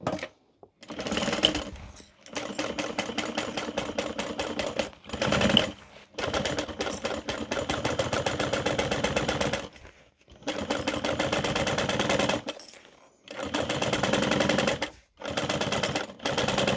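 A sewing machine stitching a tote bag, running in long fast rattling bursts separated by brief pauses, loud and close throughout.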